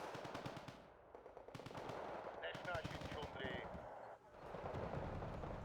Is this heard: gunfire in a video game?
yes